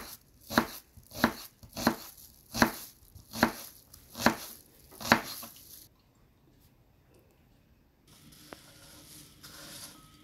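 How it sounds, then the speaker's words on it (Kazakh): Onion is finely chopped with a knife on a board, seven crisp evenly spaced thuds close up, followed by near silence and a faint clink. "Артынан пиязды ұсақтап турап,"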